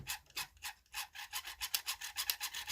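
A squeaking motor in a Vivitar Aeroview drone gives a faint, rapid run of high raspy chirps, pulsing several times a second and growing steadier over a few seconds, with no voices.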